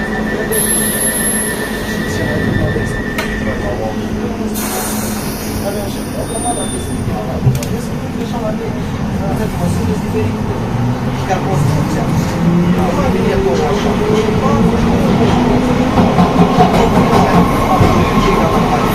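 A London Underground Piccadilly line train runs loud and close from the carriage, with rumbling wheels, rising squeal and clatter on the rails, while an automated announcement plays over the noise.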